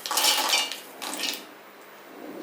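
Roasted peanuts tumble into a mixer grinder jar in a home kitchen, two quick rattling clatters of nuts hitting the jar, the first longer and louder, then quiet.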